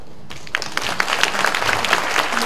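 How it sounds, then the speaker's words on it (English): A conference audience applauds a panel on national responses to aging societies, steady clapping rising after a brief quiet start and continuing at even density, moderately near. "let's give our panel a round of applause"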